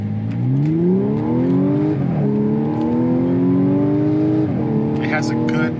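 A supercharged Audi S4 accelerates onto a highway, its exhaust and supercharger whine rising steadily through gears with clear shift breaks, loud and close from inside the car.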